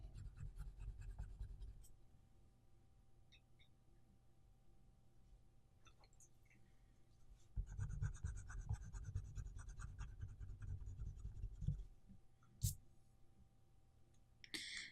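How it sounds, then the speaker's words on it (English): A white colored pencil scratches softly over paper in a portrait drawing, a faint, steady scratching with brief quiet pauses and small clicks. "Let's add the white pencil as well."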